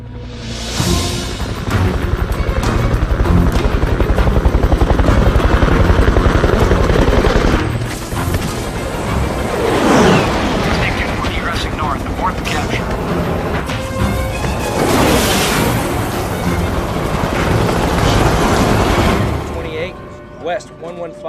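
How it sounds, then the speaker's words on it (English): Military helicopters roar continuously at close range, rotor noise swelling and fading as they pass during a fighter pilot combat training exercise, with booming bursts and a voice talking over the din. "With enemy choppers moving in to pick up the downed pilot"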